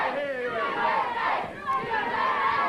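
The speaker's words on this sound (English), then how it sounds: "Chant goes out from our crowd, USA" A large wrestling arena crowd at a 1985 WWF tag-team match chants USA in loud, rhythmic unison, a dense roar of voices filling the hall.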